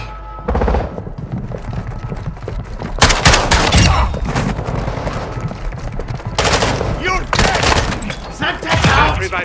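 Bursts of automatic gunfire in a Call of Duty Warzone match on Ashika Island, loud and close, coming in several sustained volleys separated by brief lulls, with radio-style voice callouts and game sounds underneath.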